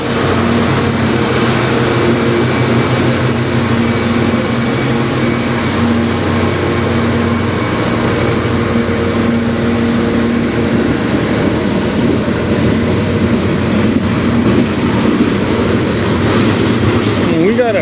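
A CN freight train's distributed power locomotive rumbles past in a steady, loud, continuous drone with a deep engine hum and broad roar, holding constant throughout with no clear variation.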